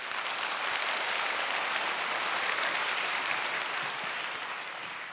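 An audience claps steadily after a public science lecture, producing a dense, even wash of applause from a full hall that holds at one level and then eases off slightly near the end, with no voices above it.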